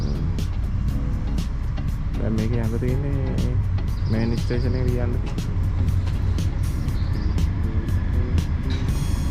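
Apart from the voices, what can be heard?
tram approaching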